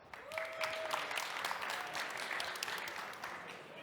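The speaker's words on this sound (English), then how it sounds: "So, a round of applause." Applause from an audience at a startup showcase, a steady wash of many hands clapping at moderate distance, with faint voices mixed in.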